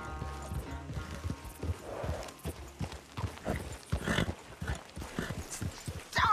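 Horse hooves clip-clop with a whinny from a restless horse acting up after a race in Red Dead Redemption 2, the steady hoofbeats and snorts mixed with game sounds and brief voices.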